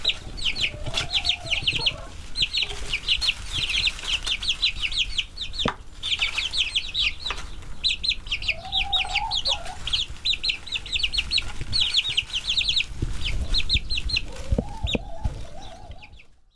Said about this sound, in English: So here's one of my adult hens, Rhode Island Red.